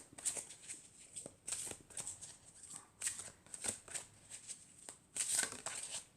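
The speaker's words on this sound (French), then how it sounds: "je vais prendre une carte de l'oracle des anges et des cristaux" Oracle cards of angels and crystals being shuffled by hand, a series of crisp riffling and sliding bursts repeating in an irregular rhythm, close and clear with no talking.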